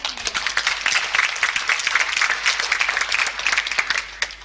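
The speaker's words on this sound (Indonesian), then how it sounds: "Tepuk tangan." Church congregation breaking into applause during a sermon, a brisk, dense patter of many hands clapping that holds steady for several seconds before tapering near the end.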